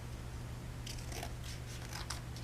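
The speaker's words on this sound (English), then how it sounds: "So now I'm going to cut some triangles" Scissors cut triangles from folded green paper in faint, quick snips spread across a couple of seconds, over a steady low background hum, with no talking.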